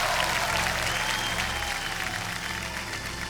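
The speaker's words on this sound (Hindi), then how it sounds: "तालियां बज जाए इनके लिए।" A TV game show studio audience on KBC claps loudly and continuously, a dense wash of applause that tapers slightly toward the end.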